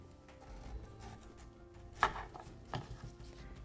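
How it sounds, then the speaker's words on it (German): A kitchen knife chops through the ends of a beetroot, giving two sharp, close cutting thuds about a second apart against a cutting board, with faint background noise and no talking. "Da auch hier schneide ich den Anfang und das Ende ab."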